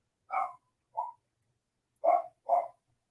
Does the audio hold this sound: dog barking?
yes